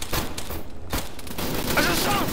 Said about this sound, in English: I just shot him 4 times